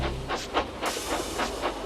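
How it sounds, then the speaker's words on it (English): Steam locomotives shove a string of freight cars up a grade, making rhythmic chuffing bursts of hiss over a steady low rumble, with about six regular puffs repeating at a labored pace. "the snorting engines forced the freight cars up the hill"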